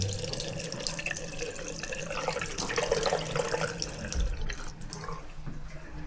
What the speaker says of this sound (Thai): มีห้องมีก๊อกน้ำร้อนน้ำเย็น